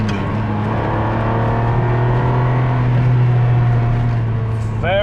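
A 1997 Ferrari 550 Maranello accelerates in second gear, its loud engine note droning steadily and rising in pitch, with a voice speaking over it.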